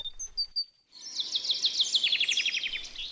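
Several small birds sing near Lake Laffrey at dawn in a garden, a few thin separate whistles followed by a fast, bright, rhythmic trill of repeated chirps, close and clear.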